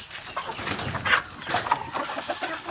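Chickens on a small farm cluck and chatter among themselves, a busy mix of overlapping fowl calls at moderate distance over steady background noise.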